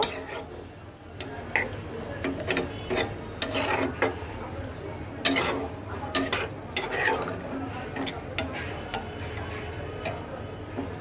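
Vegetables and water are stirred in a cooking pan for a small kachki fish curry, with steady scraping and clinking of the spoon against the pan throughout and faint talk in the background.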